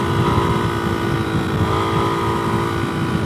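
A motorcycle engine drones steadily in fourth gear, a constant mid-pitched hum with heavy wind noise rushing over the microphone while riding.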